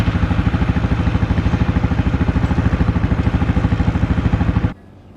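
Farm tractor driving out to a pumpkin patch field, its engine chugging in a fast steady rhythm close by, then abruptly cut off near the end.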